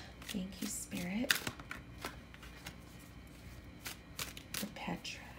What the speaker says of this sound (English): Spirit said keep shuffling right now